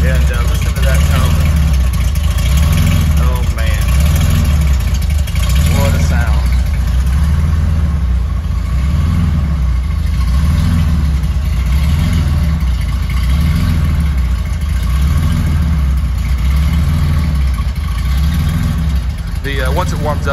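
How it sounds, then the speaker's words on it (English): A 1974 Porsche 911 Carrera idles just after a cold start, its engine close and loud with a steady, slightly loping low pulse that runs unbroken throughout. "So that was cold start."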